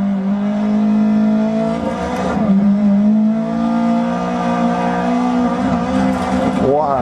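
A rear-wheel-drive car in a racing video game holds a loud, sustained engine drone with shifting pitch, dips and re-rises as it works through corners, and a faint squeal near the end.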